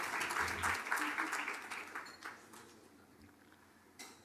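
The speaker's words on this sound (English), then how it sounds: "So, one more round of claps for IAA." An audience at an advertising seminar claps for IAA. Applause is full and dense for about two seconds, then thins into scattered claps and dies away, with a last few claps near the end.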